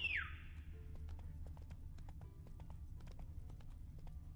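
Hooves of Geralt's horse Roach in The Witcher 3, a steady soft clip-clop at a walking pace under a low rumbling ambience, opened by a short high whinny.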